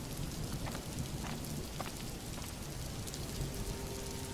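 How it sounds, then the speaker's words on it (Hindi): Steady rain pours down during a nighttime storm in a cartoon village courtyard, a continuous dense hiss of drops with faint patters and no voices. "रात में अचानक तूफान और बारिश शुरू हो गई।"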